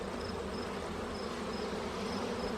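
Honey bees buzz in a dense, continuous drone close by as a beehive is opened for inspection, without any talk.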